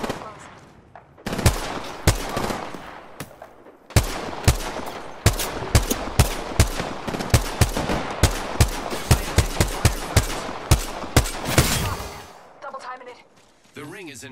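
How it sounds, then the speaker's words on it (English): Rapid bursts of Apex Legends gunfire crack near and loud in repeated volleys, with a few gaps between bursts and a voice speaking underneath. "Listen up, I'm getting shot at."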